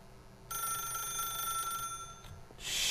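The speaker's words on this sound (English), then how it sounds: "If you can truly place your faith in another, then pick up the phone." An office telephone in The Stanley Parable rings with a bright, buzzing, sustained trill that cuts off after about a second and a half, followed by a short rustle and a hiss.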